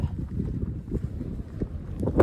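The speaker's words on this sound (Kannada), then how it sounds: "ಸಿಕ್ಕಾಪಟ್ಟೆ ಜೋರು ಗಾಳಿ ಬೀಸಿದೆ" Strong wind buffets the microphone on a hilltop in a steady low, rumbling roar, with gusts swelling and easing throughout.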